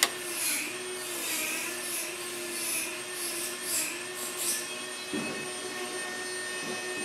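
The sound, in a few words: Buchi B-171 Vacobox vacuum pump running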